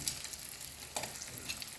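Oil sizzles and crackles steadily as dried salted sapsap fish fries in a pan, with a few sharper pops; quiet and close, no voices.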